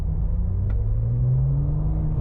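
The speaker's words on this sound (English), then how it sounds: "It sounds so good. The engine, not the clutch." A Porsche 911 GT2 RS engine with a light flywheel and heavy-duty clutch drones deep and close, its pitch climbing smoothly as it revs up.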